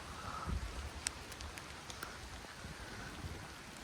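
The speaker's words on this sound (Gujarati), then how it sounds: "બહુ જ વરસાદ આવે છે પરમ દિવસ કરતાં પણ વધારે વરસાદ આજે આવે છે" Heavy rain falling before dawn patters down on a surface, a soft continuous hiss with a few sharper drips standing out.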